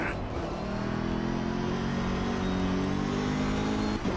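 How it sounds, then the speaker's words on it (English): A steady, muted racing car engine in a sim racing game drones at a constant pitch, a low continuous hum that holds throughout without talk. "It's a very kind of muted, not very racy kind of engine sound."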